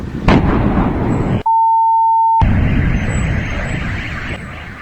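News footage of an explosion in Volgograd, Russia: a loud, dense roaring blast that fills the recording, broken partway by a second of steady electronic tone before the rumbling noise returns.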